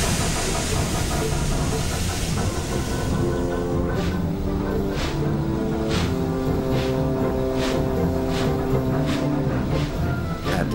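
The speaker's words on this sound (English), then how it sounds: "At last, the express train started to move." Steam engines in a Trainz railway simulation work together to start an express train, with one engine pushing from behind as the other pulls; a dense, steady rumble and hiss with rhythmic chuffs that emerge and repeat.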